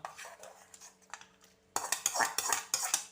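Kappa and meat being stirred together in a pot, with a spoon scraping and clinking against the metal in irregular strokes, lighter at first and then louder and denser in the second half, close up with no talking.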